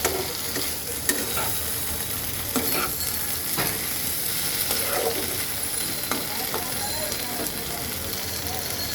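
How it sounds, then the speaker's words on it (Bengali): Bengali fish curry with peas being stirred in a pan as water goes in for the gravy, a steady broadband sizzle and hiss with scraping stirs throughout, moderately close. "এ আমি দিয়ে দিলাম ঝোলের জল একটু মিক্সড করে দেব জলের সাথে"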